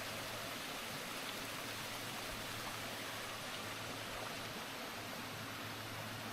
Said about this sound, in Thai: น้ำไหลลงมานี่ไปเรื่อยๆนะครับ